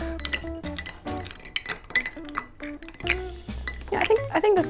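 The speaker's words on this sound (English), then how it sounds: "I'm gonna stir this again." A spoon stirs an old fashioned cocktail in a glass, clinking rapidly against the sides in quick bright rings, close and lively, mixed with scattered chatter from people talking nearby.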